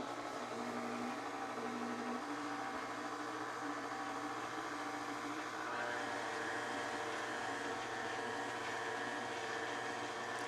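A KitchenAid pasta roller attachment on a stand mixer turning steadily as a fresh pasta sheet is fed through at setting 6, a continuous close motor whir with a shifting mechanical hum and no speech.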